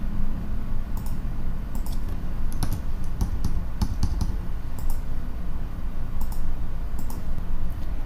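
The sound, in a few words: computer keyboard typing and mouse clicking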